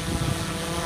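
A DJI S1000 multirotor drone hovers close by with its landing gear down, giving off a steady, loud buzzing drone of spinning rotors throughout the short moment.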